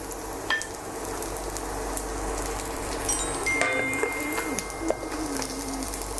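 Garlic frying in about 15-20 grams of oil in a pan while Thai stir-fried basil pork is being cooked. A steady, soft sizzle runs throughout, with pigeons cooing nearby.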